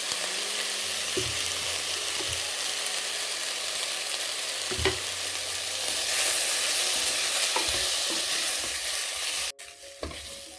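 Cumin seeds and chili powder frying in a pan for a Tamil egg curry, a steady close sizzle running throughout with occasional scrapes and knocks of stirring, ending in a brief drop and clatter near the end.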